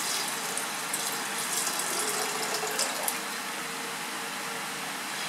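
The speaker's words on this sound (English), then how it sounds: "I'll first pour the copper sulfate solution" Copper sulfate solution poured into a laboratory beaker, a steady splashing liquid stream that runs continuously at moderate level, slightly fuller in the first three seconds before easing off.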